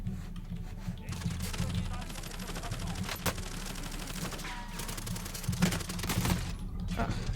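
Bursts of automatic gunfire in the online shooter Call of Duty Warzone, dense rattling volleys that keep going throughout with loud sharp shots mixed in and a voice talking over them.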